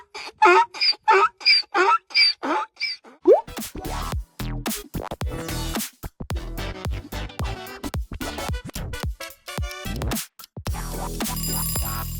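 A donkey brays in a burst of rhythmic, repeated harsh heaving calls, loud and close, before other unrelated sounds take over.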